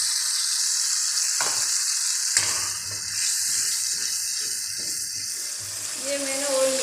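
Tomato paste sizzles and spits loudly in hot oil in the pan while cooking for a chicken karahi, a steady hiss with some stirring noise.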